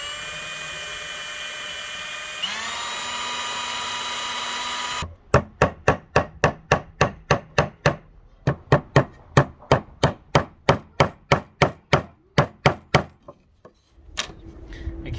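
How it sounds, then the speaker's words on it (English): Hammer blows drive nails into wooden boards for rustic crate-board wall art, a long run of sharp, evenly spaced strikes, close and loud, after a few seconds of steady background hum. "I'm going to put 2 nails in for a spot to hang it off later on."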